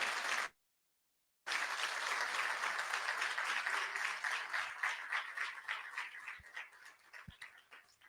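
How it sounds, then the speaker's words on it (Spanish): Audience applause for a civil protection team at a talk on risk management, a brief burst cut by a gap, then sustained steady clapping that gradually thins into separate claps, fairly distant. "Un aplauso para ellos."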